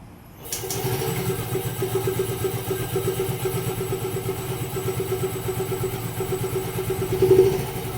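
A Yamaha Gravis scooter engine catches after a push start and settles into a steady, close idle with an even pulsing putter, rising briefly in a small rev near the end.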